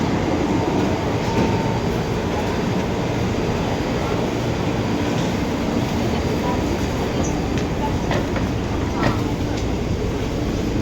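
Inside a moving train, a steady loud rumble and hiss of wheels on rails fills the carriage, with faint clicks and rattles along the way.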